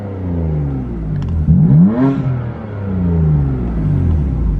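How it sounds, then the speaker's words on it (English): A BMW F80 M3 with a catless single mid pipe exhaust, valves in efficient mode, revs up as its turbo spools, giving a rising whir over a loud, close engine rumble that swells and settles over a few seconds. "You can hear the turbo spool"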